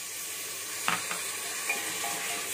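Masala with chopped tomatoes sizzles softly in a pan for egg biryani, a low steady frying hiss with a couple of brief scrapes and clicks of stirring, no voices.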